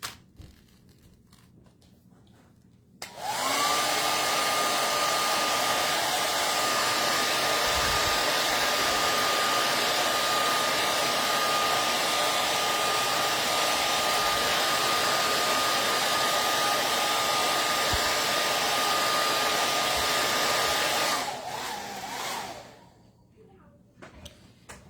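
A hair dryer runs continuously for about eighteen seconds, drying a peeled-up transfer, with a loud, steady whooshing drone and a constant whine that start and stop abruptly, close to the listener.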